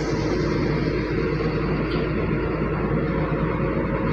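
An XCMG dump truck diesel engine with a misfire and low power drones loudly and steadily close by, a dense uneven rumble with no talk over it.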